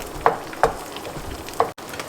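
An omelette of beaten eggs, onion and green chili fries in a pan with a steady, close sizzle, broken by a few sharp clacks or taps of a utensil.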